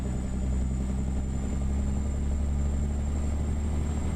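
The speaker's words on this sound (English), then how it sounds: "strictly engine-wise sound from SCS, the S13 sounds really, really good" Truck engine from American Truck Simulator, an SCS S13 engine, runs at a steady low idle-like drone, loud and continuous with no talk.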